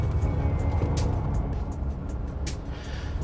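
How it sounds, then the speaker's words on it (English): Mercedes G63 AMG with a 544 hp bi-turbo V8 driving along, a steady low engine and road rumble heard from inside, with faint brief clicks above it. "The car I'm driving at the moment has 544 horsepower. It's called the new G63 AMG"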